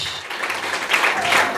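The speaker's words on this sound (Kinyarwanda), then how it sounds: "And let's give a round of applause to God." Church congregation applauding during a pastor's installation service, a dense steady wash of clapping that swells slightly toward the end, with faint voices mixed in.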